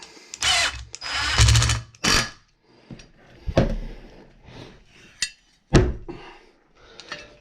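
A 10mm wrench tightens a bolt during repair of a lawn tractor's flywheel gear, producing a series of sharp metallic clanks and ratcheting clicks in uneven bursts, close and fairly loud, with no speech.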